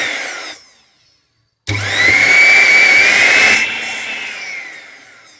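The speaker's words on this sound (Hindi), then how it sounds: "अभी मिक्सर ओपन ही है और मैंने इसको ऑन किया है। तो एक बारी चला के देखते हैं ये चलता है कि नहीं।" A repaired mixer grinder, still opened up, whirs on loudly at close range after a short silence, a high steady motor whine that runs about two seconds before easing to a lower, quieter hum.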